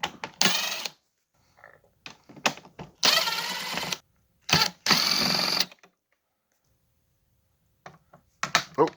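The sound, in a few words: removing screws from Honda Accord rear speaker grill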